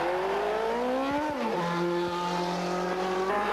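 A 1985 Formula 3000 race car spins at a chicane, its engine note dropping sharply mid-spin and then holding a lower whine, loud and close with no talking.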